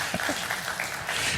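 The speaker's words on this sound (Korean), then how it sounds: "칼빈주의가 더 큰 감사와 하나님께 영광을 돌린다고 생각하시면 앉아서 박수를 한번 쳐보십시오" A church congregation clapping briefly during a Sunday worship service in Busan, a short burst of scattered applause with faint voices underneath.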